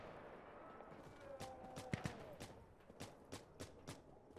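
Several sharp gunshots crack out at irregular intervals, some in quick pairs, over a low background murmur with faint voices, in the video game Insurgency: Sandstorm.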